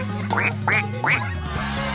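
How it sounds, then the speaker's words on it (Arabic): Rubber ducks give three squeaky quacks in quick succession, close and fairly loud, followed by a softer, shorter fourth squeak. "واو، هناك الكثير من البط المطاطي."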